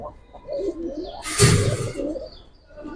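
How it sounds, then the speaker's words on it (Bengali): Giribaz and coloured pigeons cooing nearby, soft low throaty coos in a few rolling phrases, with a brief flutter or rustle in the middle and no speech. "এই দেখেন একটা কালো গলা মাদি কবুতর"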